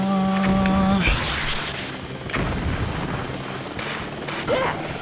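Helicopters roar through an action stage of the video game Jet Set Radio. A heavy, continuous rotor rumble is mixed with booms and game effects, loud and close throughout, with no speech.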